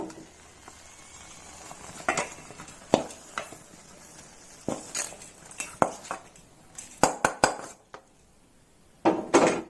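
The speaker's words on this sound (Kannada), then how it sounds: "ಎಣ್ಣೆ ಹಾಕ್ದೇನೆ ಡ್ರೈಯಲ್ಲೇ ಚೆನ್ನಾಗಿ ಹುರ್ಕೋಬೇಕು" Red chutney ingredients dry roasted in a pan with no oil, stirred over a low flame: intermittent scraping, light clinks and soft sizzling, fairly quiet, with sharper stirring knocks toward the end.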